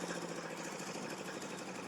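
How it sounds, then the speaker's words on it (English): A recycled engine drives a river ferry built from a section of an old Red Army pontoon bridge on the Taipale River crossing, giving a steady, rough mechanical drone with a fast knocking pulse, even in level and heard alone. "The ferry is a section of an old Red Army pontoon bridge, powered by a recycled engine."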